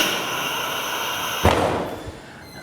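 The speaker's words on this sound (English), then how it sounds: "Click door pivot down once." One sharp knock from an ACRO machine's door pivot as it lowers and unclamps, set against a steady machine hum and followed by a fainter second thud.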